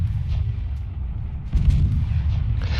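A cannon in a mortar siege video game fires with a heavy low boom and rumble, with a sharper blast near the middle of the short clip and no talk.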